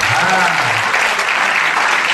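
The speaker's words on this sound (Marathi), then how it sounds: "अशा टाळ्या वाजवा, जोरात वाजवा टाळ्या" Dense crowd clapping at a college cultural association inauguration, a steady wash of applause from many hands, with a voice briefly heard under it at the start urging loud clapping in Marathi.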